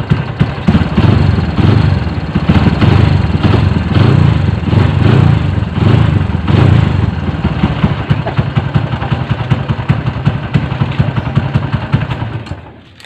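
A motorcycle fitted with a sidecar runs steadily up close, its engine putting out a loud, continuous rough idle with clattery pulses for about twelve seconds before cutting off at the end.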